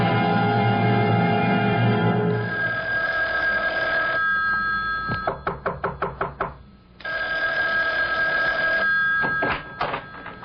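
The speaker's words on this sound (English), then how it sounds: "Isn't that your phone I hear ringing?" An old-style telephone bell rings in a radio drama, long bursts of loud ringing alternating with sharp rapid clicks and knocks, no voices.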